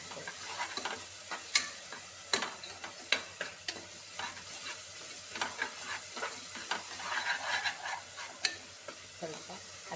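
A mint and coriander paste frying in a pan, with a steady soft sizzle broken by scattered clicks and taps from stirring, fairly quiet and without talk.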